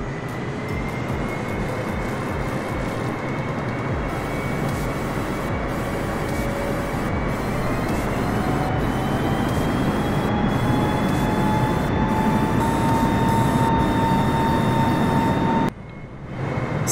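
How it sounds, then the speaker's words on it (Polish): Aircraft engines in Microsoft Flight Simulator over New York make a loud, steady drone with whining tones that slowly rise in pitch, holding constant before cutting off abruptly near the end. "patrzcie, ile tu samolotów lata nad tym Nowym Jorkiem"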